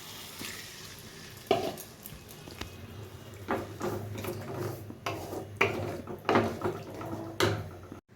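Water added to a pan of cooked-down spice masala for a Bengali ol kopta curry brings a soft sizzle and bubbling, broken by repeated close scrapes and clinks of a spoon against the pan.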